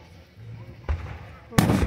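Fireworks burst at a city firework show, two sharp booms about a second apart: a moderate bang followed by a louder, crackling explosion over distant background noise.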